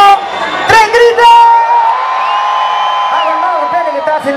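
A concert crowd at a grape harvest festival in Isla de Maipo, Chile, shouts and whoops together on cue, a loud sustained mass of voices that swells after an opening count.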